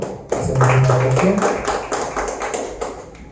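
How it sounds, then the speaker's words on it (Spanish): A short burst of applause from a small church congregation, with brisk clapping that starts suddenly and then tapers slightly. A voice is faintly heard beneath it. "Le damos un fortísimo aplauso al Señor."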